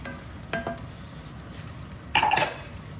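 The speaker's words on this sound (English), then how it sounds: "start stirring this all up, get it all in and combined together" A spoon stirs beef, mushroom and Guinness pie filling in a pot, a soft scrape, then a brief louder clatter and clink of metal on the pot, close and quiet.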